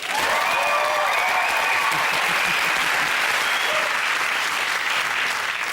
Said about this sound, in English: Oh, round of applause.